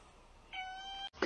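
A cat gives one drawn-out, tonal meow at moderate volume, held for about half a second before stopping, followed by a brief sharp noise at the very end.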